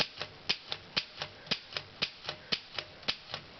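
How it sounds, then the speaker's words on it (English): An Underwood Model 3 typewriter types in an even rhythm of sharp, close key strikes, roughly two per second, with nothing else heard. "Let's get a typing sample of this thing."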